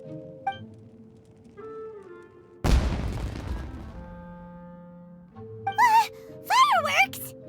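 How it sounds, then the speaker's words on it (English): Fireworks go off in Genshin Impact gameplay: one sudden loud blast with a decaying rumble, followed by lighter bangs and animated character voices. "It sounded like fireworks."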